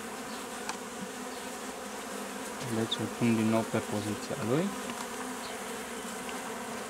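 Honeybees buzzing around a hive frame from a queenless nucleus colony, a steady low hum throughout that swells into a louder, wavering buzz near the middle, with a brief spoken remark.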